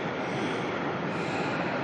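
Aircraft engine at Melbourne Airport during busy single-runway operations: a steady, broad roar of a jet, constant and fairly loud throughout, with no talking.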